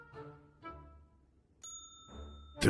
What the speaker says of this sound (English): No hotel front desk is complete without a bell.